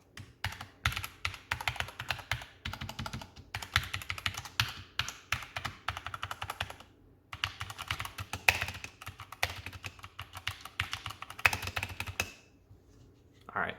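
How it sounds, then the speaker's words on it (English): Keys on a white Redragon K530 Draconic mechanical keyboard are struck hard in rapid, uneven bursts of loud clacking typing that carry on for about twelve seconds, pause briefly midway, then tail off to quiet. "you smack those keys a little harder"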